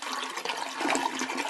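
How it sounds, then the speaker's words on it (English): A toilet flushing, a steady rushing gush of water lasting the whole moment, fairly close and alone with no voices. "We're flushing it away."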